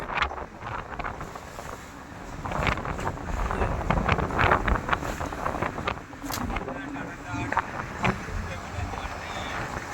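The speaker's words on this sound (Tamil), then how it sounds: "கடல் மேலே காற்று உரமாக கிடக்கு, அதனால் வீடியோ ஒழுங்காக எடுக்க முடியாது." Heavy wind at sea buffets the microphone in continuous gusty roars, with water and boat noise beneath and faint voices now and then.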